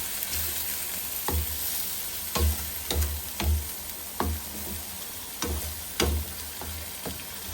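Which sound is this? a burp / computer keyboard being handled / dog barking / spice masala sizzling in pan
spice masala sizzling in pan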